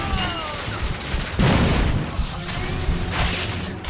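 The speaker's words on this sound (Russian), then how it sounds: "Граната, блин." A grenade goes off in The Order: 1886 with a heavy, close boom about midway. Dense gunfire and combat noise run continuously around it.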